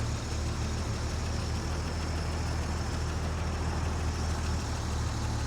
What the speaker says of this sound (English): it does have a special exhaust manifold there. See, it says Fenton on it. Gives the exhaust a really cool sound.